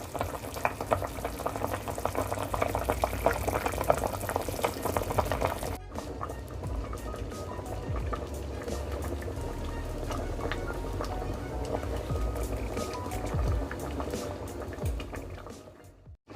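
Sausages and lentils simmer in a thick sauce in a pot, giving a continuous close bubbling and gentle sizzling that holds steady throughout with no voices over it.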